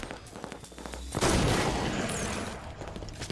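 A burst of gunfire in a Halo multiplayer match, likely a DMR rifle shot, cracks in loud and leaves a dense rolling blast that fades slowly. Gameplay noise runs underneath.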